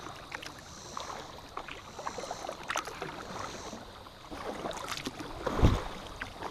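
Kayak paddling on a lake while perch fishing in Oklahoma: soft, irregular water swishes and drips over light wind noise, with a single louder splash or thump near the end, no talking.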